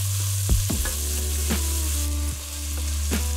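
Onions sizzle steadily in a hot pan for mulligatawny soup, with a continuous loud fry and a few sharp clicks and stirs near the mic.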